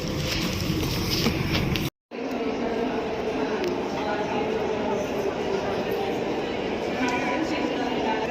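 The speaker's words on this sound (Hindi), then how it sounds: "ये हमारी ट्रेन है" Inside a passenger train travelling from Mashhad to Qom, a constant loud rumble of the moving carriage with a brief cut near the start and faint voices in the background.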